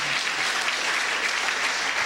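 Church congregation applauding, a steady, full wash of clapping from many hands filling the whole moment.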